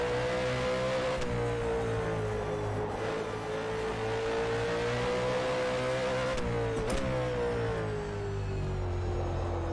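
DeWalt Commodore Supercar engine in rFactor 2 racing at Sydney Motorsport Park at night, a loud sustained in-car drone that rises and falls through gear changes with a sharp shift blip near the end.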